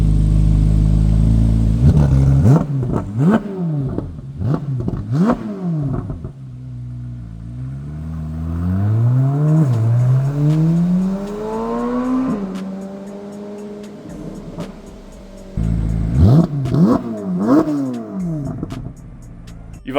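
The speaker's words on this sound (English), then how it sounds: "the C8 Z06 is obviously pretty loud as is" A modified C8 Corvette Z06 with open exhaust valves revs hard in repeated sharp blips, then sweeps up through a long climbing rev, before more quick, loud throttle stabs close by.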